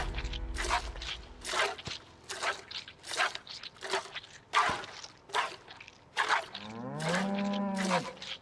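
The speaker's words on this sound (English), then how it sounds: "I have an Angus cow that was upset and destroying things" An Angus cow in the survival game Project Zomboid moos repeatedly, giving a series of loud, close lowing calls in steady succession, ending with one longer drawn-out moo.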